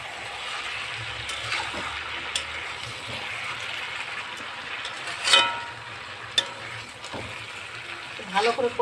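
Kachki fish with ridge gourd, eggplant and pumpkin sizzling in a pan as a Bengali vegetable curry, with a soft steady frying hiss, occasional sharp scrapes of stirring, and a voice talking over it.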